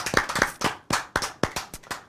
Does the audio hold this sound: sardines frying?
no